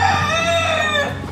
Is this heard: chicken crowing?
yes